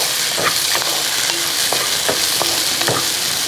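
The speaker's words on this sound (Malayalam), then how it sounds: "പഴുത്ത രണ്ട് തക്കാളിയും കൂടെ ഇതിൻ്റെ അകത്തോട്ട് ഇട്ട് കൊടുക്കും ഇനി അതുകൂടെ ഒന്ന് ഇളക്കി" Ripe tomatoes are stirred into onions sautéing in a pan for a Kerala-style sambar made without dal, giving a loud, constant sizzle with a few short scrapes of a spoon and no voices.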